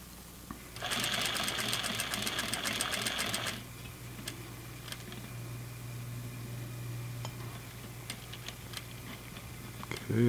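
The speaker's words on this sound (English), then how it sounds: "we're going to sew over those stitches and then back stitch a couple" A sewing machine stitches flannel for pajama pants, starting with a loud, fast needle rattle for a few seconds and then dropping to a softer running hum with scattered clicks as it back stitches.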